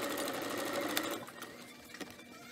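Sewing machine stitching the hem of a jacket and its sleeve, a fast, close, steady whir that slows and fades after about a second, leaving a few quieter mechanical ticks.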